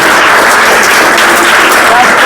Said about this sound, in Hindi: पीछे में ताली बजेगा